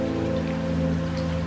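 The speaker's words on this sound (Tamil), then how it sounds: "காத்திருந்து உன் குரல் ஒலிக்கு பதிலாய் மழையின் சப்தம் கேட்கிறேன்." Rain falls on a mountain night as a steady patter, with a low humming tone beneath; no voices.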